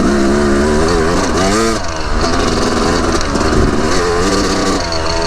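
A dirt bike engine revs loud and close while riding, its pitch rising and falling through throttle changes over a continuous buzzing drone.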